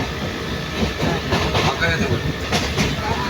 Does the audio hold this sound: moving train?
yes